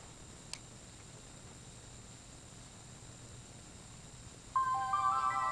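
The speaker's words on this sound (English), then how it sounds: "And that is the startup sound of the PSP." Sony PSP handheld console powering on, its short bright electronic startup chime rising out of quiet hiss near the end, after a single faint click.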